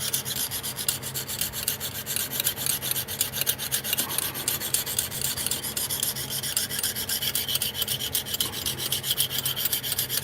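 Knife blade being sharpened to raise a burr, a continuous close, rapid rasping and rubbing of steel on an abrasive surface, steady and unbroken with no talking.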